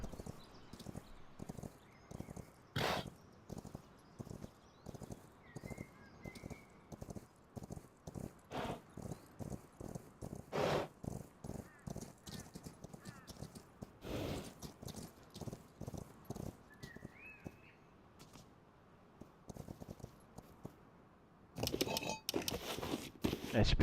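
Horse hooves clip-clop in steady, rapid rhythm throughout in the survival game Rust, a near, continuous trotting patter with a few louder thumps and brief chirps mixed in.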